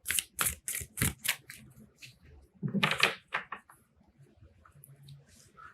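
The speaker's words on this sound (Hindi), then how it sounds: "One more shuffle." A deck of tarot cards being shuffled nearby, with a run of quick riffling and slapping bursts at the start and another burst in the middle, then fading to faint handling noise.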